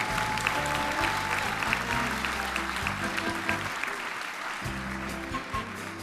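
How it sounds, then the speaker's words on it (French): Audience at a French game show applauding a contestant, continuous dense clapping throughout, with music tones running underneath and dipping briefly near the middle. "Kevin, on peut l'applaudir, on peut l'applaudir."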